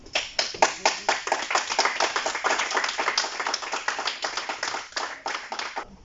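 A small audience claps at a university certificate ceremony in Caen, a steady nearby patter of many hands sustained for several seconds with no talk.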